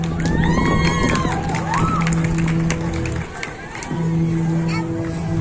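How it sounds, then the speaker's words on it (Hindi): A school crowd at a Republic Day celebration claps and cheers loudly for a young child performer, mixed with children's shouts and the murmur of the audience. "तो जोरदार तालियों से स्वागत कीजिए डीपीएस के इस नन्हे जवान का।"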